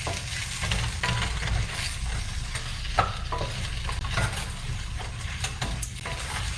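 Uncooked orzo is stirred with summer squash in a hot pan, giving a steady soft sizzle with repeated scraping strokes of the spoon, close and continuous.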